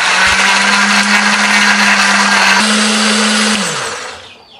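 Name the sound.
blender grinding spice paste with coriander, pepper, turmeric, garlic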